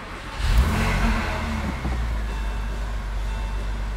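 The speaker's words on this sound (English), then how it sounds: "let me fire it up for you because they make an awesome" A 2001 Porsche 911 Carrera Cabriolet engine catches with a loud burst, then settles into a deep, steady rumble that carries on throughout.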